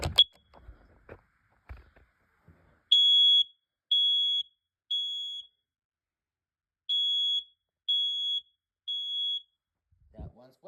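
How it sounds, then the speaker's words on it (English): A household smoke detector upstairs sounds during a test-button press, giving six loud, even electronic beeps in two groups of three with a short pause between the groups, after some faint handling noise. Quiet talk begins at the very end. "So this detector is definitely upstairs, and we're gonna hit the test button first."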